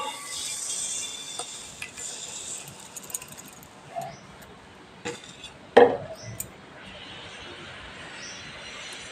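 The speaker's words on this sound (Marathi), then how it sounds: "तर ही साखर मी या फोडांमध्ये मिक्स करणार आहे" Sugar is stirred into chopped Alphonso mango pieces in a metal pot, giving a soft, continuous scraping and rustling with scattered clinks and one sharper knock against the pot.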